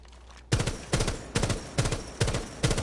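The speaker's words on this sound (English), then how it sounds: "When I'm shooting" Gunfire from a rifle fitted with a red-dot sight in Rainbow Six Siege: six loud, sharp shots or short bursts at a fairly even rhythm, each with a quick punchy attack and a brief tail, close and alone.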